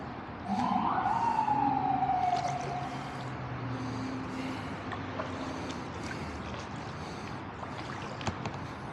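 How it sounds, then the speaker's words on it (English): An emergency vehicle siren wails in New York City, heard from a kayak on the Bronx River. It rises loud for a few seconds, then sweeps down and fades into distant traffic and ambient city noise. "I'm sure you can hear the sirens. This is New York City, folks."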